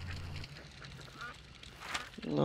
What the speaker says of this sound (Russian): Ай, блядь, утки.